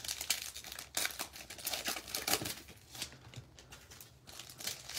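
Wrappers of 2020-21 Mosaic basketball card packs crinkle and tear open, producing soft, close rustling with brief crisp rips scattered throughout.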